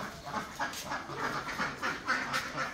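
Domestic ducks on a duck farm quack steadily in overlapping calls, a busy flock heard at moderate distance with no voices.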